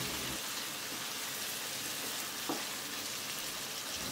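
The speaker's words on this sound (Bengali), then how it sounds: "টমেটোটাকে মশলার সাথে ভালোভাবে একটু নেড়ে চেড়ে দিচ্ছি।" Four tomatoes fry with spices in a pan, giving a steady soft sizzle with a light scrape of stirring near the middle. No voices are heard.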